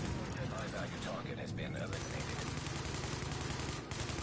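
Dense, continuous automatic gunfire from a multiplayer shooter game with grenades, rattling loudly and steadily throughout with no pause, voices mixed underneath.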